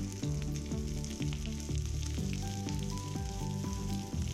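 Diced onions sizzling in hot oil with cumin seeds and curry leaves, a loud, continuous close frying hiss broken by rhythmic stirring scrapes.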